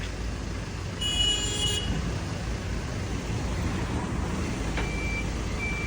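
A truck being moved out emits a short burst of high, regular reversing beeps over a steady low engine and traffic rumble, followed by a couple of faint tones.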